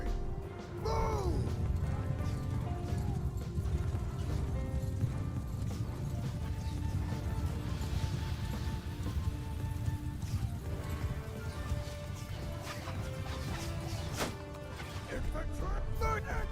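Cavalry of about 200 horses galloping in a video game, a loud continuous rumble of hooves with clashing sounds and a whinny near the start, under a player's shouting.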